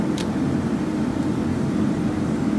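A blower runs loudly near a semi truck at an engine build, producing a steady, heavy low roar with a constant airy rush.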